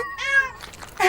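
A cat gives one drawn-out, tonal meow, close and clear, followed by a shorter, rougher vocal sound.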